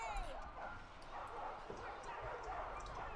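Barbarian war dogs in the Total War Arena video game yelp, whimper and bark amid a busy battle din, their calls scattered and mid-distance.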